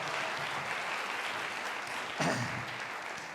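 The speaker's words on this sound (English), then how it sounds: "let's give Julia and everyone else on stage another round of applause" Assembly audience clapping for Julia and others on stage: a steady, moderately distant wash of applause that swells briefly toward the end.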